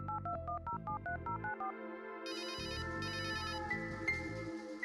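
In the Runaway: A Road Adventure game, a quick series of touch-tone dialing beeps plays, followed by two bursts of a bright electronic phone ring, clear and alone with no talking.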